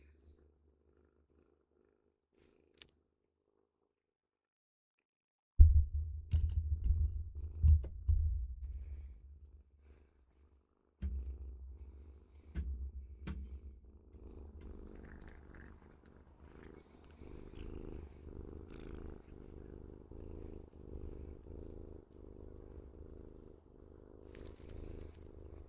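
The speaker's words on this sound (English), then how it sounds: "I just wanted to mic my kitty as she purred" A pet cat purring straight into a microphone: a deep, close rumbling purr in rhythmic pulses that starts abruptly after silence, breaks off briefly, then resumes steadily and a little quieter.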